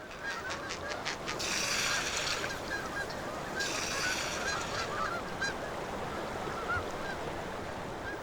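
Canada geese honking in a refuge, a dense chorus of repeated loud honks from a flock, building in bursts over a steady background.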